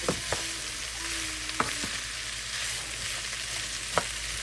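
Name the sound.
onion frying and caramelizing in a pan over high heat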